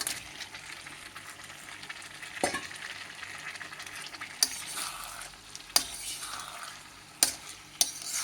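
Homemade carrot pasta is stir-fried in a pan, with a steady close sizzle of frying and scraping stirs, plus several sharp clinks of a utensil knocking the pan.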